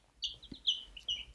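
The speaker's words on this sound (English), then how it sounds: "This is a silver-laced Wyandotte. I mean, they're just really pretty birds." A silver-laced Wyandotte hen gives several short, bright clucking calls in quick bursts, close by and fairly quiet, with no talking.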